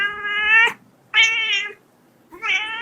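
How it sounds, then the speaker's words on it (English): A domestic cat meows three times in a row, each call clear, close and fairly loud, separated by brief silent gaps. "cat."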